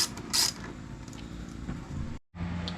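A ratchet wrench clicks as bolts are removed from a BMW S1000RR motorcycle during a tail light and fender eliminator fit, the quick mechanical ratcheting and light metallic taps coming up close.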